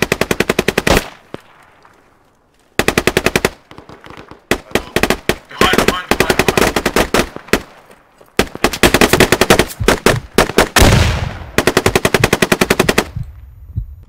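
Bursts of automatic gunfire and single shots from the Squad military shooter game crack in dense clusters across the clip, with gaps of quiet between volleys and loud, close rattling fire.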